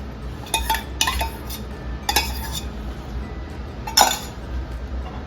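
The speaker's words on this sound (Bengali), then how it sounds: "ডালটা এবার ভর্তা করে নেব।" Boiled dal (lentils) being mashed in a pot, heard as a few metallic clinks and scrapes of a utensil against the pot, spaced irregularly, moderately close, with no talking.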